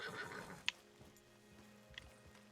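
A horse in the Red Dead video game neighs with a short whinny, then hooves clip-clop faintly in the background amid quiet game ambience.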